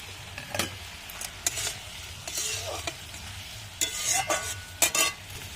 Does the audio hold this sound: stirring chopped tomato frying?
yes